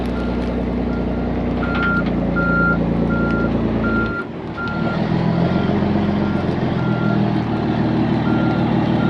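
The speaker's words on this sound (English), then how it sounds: "See if we can back it up here without backing in the hole." Backup alarm of a dump truck reversing on a dirt job site, beeping steadily over the loud rumble of a diesel engine, which dips briefly midway and then picks up again.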